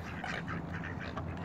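Ducks at Riverside quack in a short burst of repeated nasal calls, fairly close and unaccompanied by speech.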